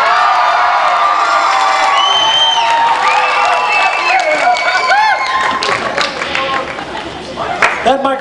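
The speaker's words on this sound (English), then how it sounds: "This crowd rocks." A Christian rock concert crowd on tour cheers, whoops and claps loudly, with high shouts and whistles rising and falling over several seconds before tapering off toward the end.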